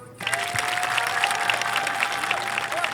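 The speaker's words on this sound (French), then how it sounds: "Une fois encore, applaudissez pour elle." At the DINAABA cultural festival in Manta, a crowd breaks into applause for a woman, the clapping starting abruptly and continuing thick and steady, with a sustained tone running underneath.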